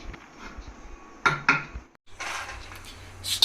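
A metal pan is set down on a lit stove for dry-roasting peanuts without oil, giving a few sharp clanks and scrapes of metal on the burner, then a low hiss of flame.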